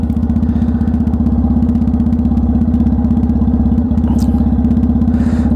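A Triumph Bonneville motorcycle engine idles while warming up, a steady, loud, close throbbing rumble with even firing pulses that continues throughout without talk.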